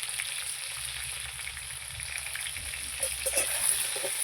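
Potatoes seasoned with salt and turmeric fry in a pan over a wood fire, giving a continuous close sizzle with a few louder crackles toward the end.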